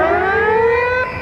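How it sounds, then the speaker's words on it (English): A half-time siren sounds at a 1990 Wellington versus Great Britain rugby league match at the Basin Reserve, a loud sustained wail that holds steady, then cuts lower near the end. "That's the half-time siren here at the Basin Reserve."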